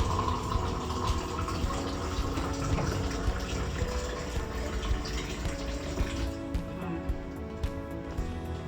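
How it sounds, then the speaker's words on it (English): Hot and cold water poured together into a bowl for Nigerian puff puff dough, a continuous gushing fill that runs steadily and softens toward the end. "this is hot water. Mix it up with cold water, so it will be lukewarm."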